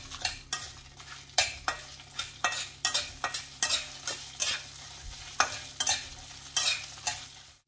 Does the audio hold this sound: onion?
yes